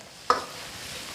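A handful of dried Sichuan peppercorns drops into hot rapeseed oil with Sichuan doubanjiang, ginger, scallion and garlic, giving one sharp hiss that quickly settles into a soft, steady sizzle.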